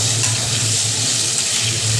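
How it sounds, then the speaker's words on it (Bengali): Potatoes and pointed gourd frying in a pan in a home kitchen, giving a steady, continuous sizzling hiss over a soft low hum, with no voices. "সুন্দর আলু পটলগুলো ভাজা ভাজা হয়ে আসছে"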